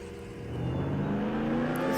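Sports car engine in Roblox Jailbreak, modelled on a Lamborghini, revving up from a low idle into a rising, sustained whine that climbs in pitch over two seconds, fairly loud and alone.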